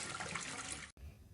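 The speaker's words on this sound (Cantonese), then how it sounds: "隔離嘅廁格突然傳來沖水聲。" A toilet flushes in the next stall of a public restroom, a loud, broad rush of water that runs steadily and breaks off abruptly near the end before a fainter draining wash resumes.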